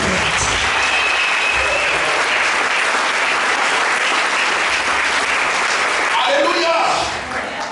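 A church congregation at a prayer service applauds, a dense continuous wave of clapping that stays loud throughout and tapers off near the end.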